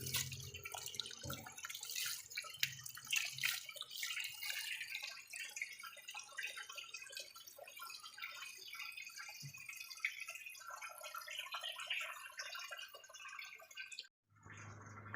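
Water drips and trickles faintly and steadily through a homemade sand filter that clears murky canal water, a soft continuous patter with no voices.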